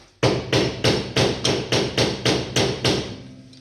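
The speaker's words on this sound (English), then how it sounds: "Get my hammer, tap on it again." Nine sharp, evenly spaced metallic hammer strikes ring out close by on a tight brake hub of a 1969 Ford Mustang during a disc brake conversion, each blow followed by a brief ringing decay.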